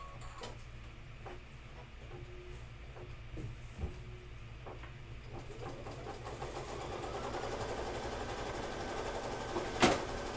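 A sewing machine stitches seams on quilt fabric for a Halloween candy corn quilt, its mechanical whir running steadily at moderate volume with small clicks and a louder thump near the end, no talking.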